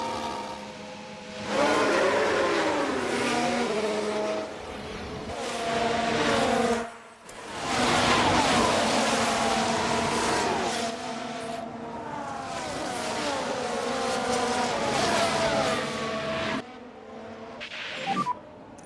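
Formula 1 race car engines in the F1 Manager 23 video game, a sustained high whine with rising and falling pitch sweeps across several cars, loud and continuous for most of the stretch with no talking.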